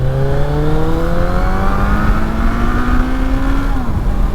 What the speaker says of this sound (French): on va pouvoir se faire une toute petite accélération là en sortant du rond-point